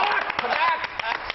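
An audience at a Hindi poetry gathering breaks into applause, with a spread of sharp claps, some louder bursts standing out, under and between a man's speech.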